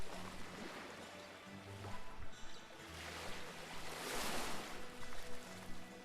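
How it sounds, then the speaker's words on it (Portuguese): Water surges and washes in the video game Caligo, a rolling, wave-like ambience that swells louder toward the end. No one speaks. "o som da água e tal"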